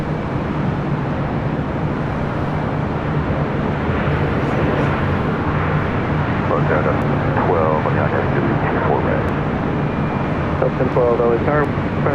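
An airliner landing on runway 24 right at Los Angeles International Airport, a steady broad roar of jet engines throughout, with radio voices talking over it.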